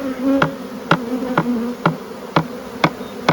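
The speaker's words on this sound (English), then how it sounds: "Catching a bee swarm." Swarm of bees being caught, a loud close buzzing hum with about seven sharp regular knocks or taps cutting through it.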